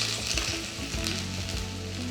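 Finely chopped ginger sizzles in hot oil while cooking Gobi Manchurian, a steady close crackle with faint background hum and no talk.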